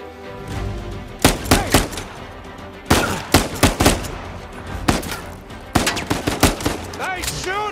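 Gunfire in Uncharted 4 during the mansion heist: repeated bursts of shots and sharp cracks in clustered volleys, loud and close, over a steady bed of game score and ambience.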